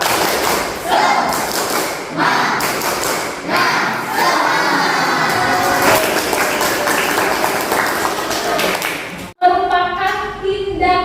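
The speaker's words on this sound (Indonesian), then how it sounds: "Tepuk semangat." A classroom of students performs a tepuk semangat rhythmic spirit clap, hitting loud, evenly spaced group claps and thumps mixed with shouted voices. The clapping stops abruptly near the end and a single voice then speaks.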